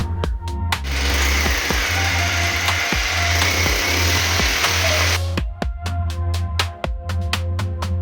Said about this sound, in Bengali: এখন ড্রিল মেশিন দিয়ে ছিদ্র করে নিচ্ছে